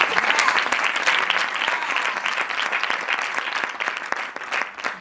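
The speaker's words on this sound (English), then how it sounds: "So can you just give yourselves a round of applause?" A dense round of applause from a business audience at an entrepreneurship talk, steady and full for about five seconds, starting to thin slightly toward the end, with no voices over it.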